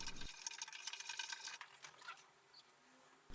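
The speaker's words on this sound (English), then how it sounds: "And then we give it a good old stir." Raw solid honey being stirred in a bowl, a close, busy scraping and clinking texture that fades slightly toward the end, with no voices.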